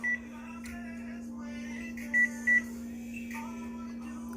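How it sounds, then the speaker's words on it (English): Oven control panel sounding a few short electronic beeps while the timer is set, over a constant low hum, with brief faint kitchen noises between them. "set our heat to 300, set our timer to 15 minutes."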